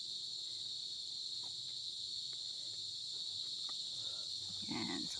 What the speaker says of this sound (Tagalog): Ang maririnig yung ingay ay huni po ng kuliglig.